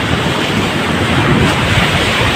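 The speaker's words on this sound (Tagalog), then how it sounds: "ang lakas po talaga ng alon" Strong ocean waves during a typhoon crashing in a steady, heavy roar, with wind buffeting the microphone and no voices.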